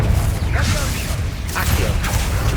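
A Confringo fire spell cast in Hogwarts Legacy, a short burst of whooshing, crackling magic with mechanical clatter, heard over steady game ambience for a couple of seconds.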